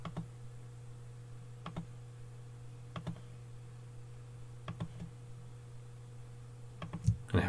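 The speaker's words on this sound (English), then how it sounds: "Holding down Control, I'm going to click around this shape." Sparse computer mouse clicks land in small clusters of one or two at a time over a quiet, steady electrical hum, each one crisp but soft and close.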